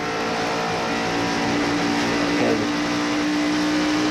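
A NASCAR Winston Cup stock car circles Charlotte Motor Speedway during the 1994 Winston All-Star Race, its engine a steady, loud drone that holds through the whole stretch with no clear pass-by peak.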